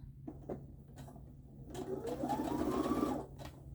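A sewing machine stitches fabric, starting with a few clicks and taps, then running in a steady mechanical whirring burst for over a second before stopping.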